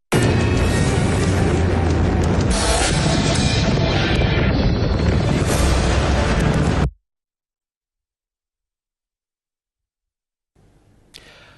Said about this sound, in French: Nous vous proposons pour finir le tour des feux d'artifice sur tous les continents.